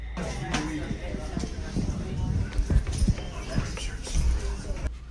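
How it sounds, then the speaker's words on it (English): A horse's hooves clop unevenly on a hard surface at close range, mixed with scattered thumps and a low background rumble. "The horse is back."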